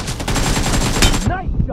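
Automatic gunfire in PUBG Mobile on the storehouse map: a loud, rapid burst of shots fills the first second and a quarter, then cuts off, leaving a fainter tail of shell and ambient sounds.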